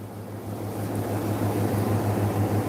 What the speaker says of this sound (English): There's the size of the blower I got feeding that fire